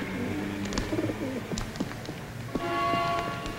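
Homing pigeon cooing softly in a 1958 city drama, low burbling coos in short phrases mixed with light clicks and chirps under a background of city noise.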